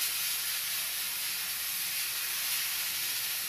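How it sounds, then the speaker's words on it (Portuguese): A pressure cooker vents steam in a steady, loud, unbroken hiss that holds at the same level throughout, with no talking over it. "a minha panela de pressão está fazendo barulho"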